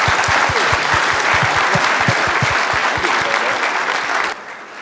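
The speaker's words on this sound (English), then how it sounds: "Give a round of applause to thank these people" An audience at an environmental keynote gives a warm, continuous round of applause for a panel of state agency directors, dense and even before dropping off abruptly near the end.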